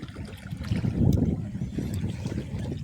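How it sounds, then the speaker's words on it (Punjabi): Fast-flowing Sutlej river in heavy flood, a steady, dense low rushing roar of water that swells slightly midway and carries on with no voices. "ਪਾਣੀ ਦੀ ਸਪੀਡ ਜ਼ਿਆਦਾ ਹੈ"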